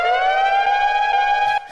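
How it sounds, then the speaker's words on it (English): An emergency siren sounds one long, steady wailing tone, loud and near, then cuts off abruptly near the end with nothing else heard. "That's an emergency siren, not like a hype siren, by the way."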